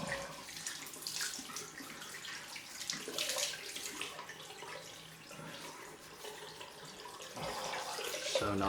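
A bathroom tap runs steadily into a sink for a cold splash after a wet shave, with close splashing and hands cupping water, the flow shifting a few times and surging near the end.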